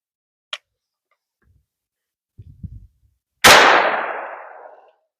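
A Kel-Tec carbine firing a 5.7x28 round at body armor, one loud sharp gunshot with a fast-fading reverberant tail, preceded by a faint click and some soft handling thumps.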